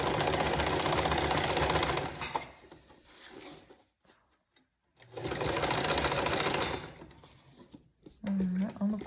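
A sewing machine stitches a zigzag onto a paper label in two loud, steady bursts of whirring, separated by a quiet pause, with a short mechanical clunk near the end.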